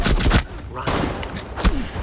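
Gunfire in a shooting video game, heist-style play, comes as several close, loud sharp bursts early on, then another strong shot near the end, with talking mixed among the shots.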